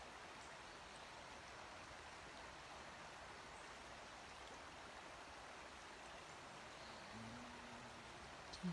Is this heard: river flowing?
yes